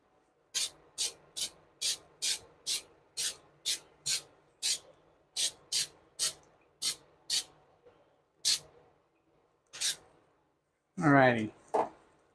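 Cooking spray hisses onto a cast iron skillet in short, sharp bursts, about a dozen quick spritzes in a rapid, uneven rhythm, then two spaced sprays, with a brief voice at the very end.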